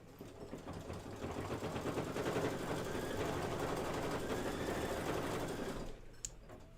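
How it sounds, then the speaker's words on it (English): A computerized embroidery machine stitches a Kimberbell Sweet Land of Liberty quilt block, its needle hammering in a fast steady rhythm for about six seconds before stopping abruptly, close and alone. "this is going to be a minute of stitching"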